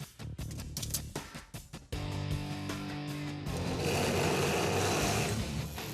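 Scrap steel tubing being cut through the center during a drag car build on a '64 Comet AFX, heard as a steady, loud grinding or sawing whine that kicks in after a few sharp clanks and continues without pause.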